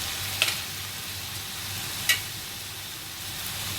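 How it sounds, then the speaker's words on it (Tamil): Ginger garlic paste and tomatoes sauté in a pan for Tamil-style tomato thokku, a steady soft sizzle with two faint spoon taps against the pan. "இஞ்சி பூண்டு பேஸ்ட்டு ஸ்மெல் போகிற வரை நல்லா வதக்கிடுங்க."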